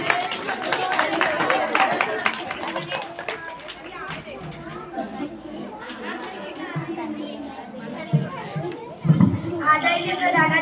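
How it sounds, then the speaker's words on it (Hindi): A group of schoolchildren at a Republic Day school event claps to welcome a speaker, a lively scattered applause mixed with loud children's chatter throughout. "सब बच्चे जोरदार तालियों से उनका स्वागत करें"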